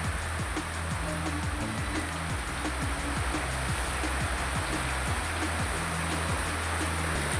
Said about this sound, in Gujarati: વરસાદ તો દમ ધોફાળ ચાલુ થતો ફૂલ વરસાદ।